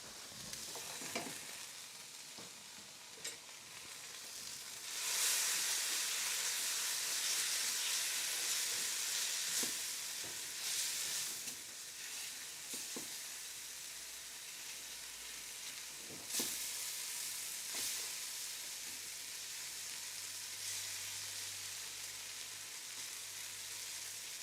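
Chorizo fries and sizzles in a pan, a soft steady hiss that swells when the meat is stirred, broken by a few scraping clicks, with no talking.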